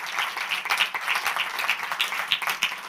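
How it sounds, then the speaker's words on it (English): Audience applause in a conference auditorium after a Python conference talk, a steady patter of many hands clapping at moderate loudness for a few seconds with no talk over it. "Let's give Samuel another round of applause."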